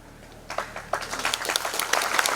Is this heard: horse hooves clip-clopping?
no